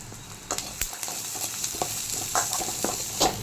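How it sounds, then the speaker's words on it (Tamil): Large onions and a sprig of curry leaves frying golden in a pan, an even crackling sizzle with occasional spatula scrapes, close and steady. "பெரிய சைஸ் வெங்காயம் ஒரு ரெண்டு வெங்காயம் போட்டிருக்கேன் நல்லா கோல்டன் ஃப்ரை ஆகணும்"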